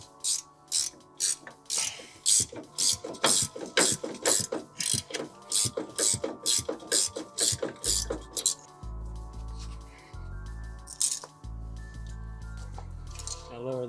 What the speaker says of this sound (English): we're gonna take an 18mm socket for the top of our strut tower